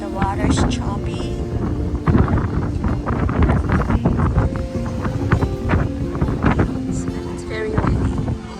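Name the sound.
strong wind by a pool area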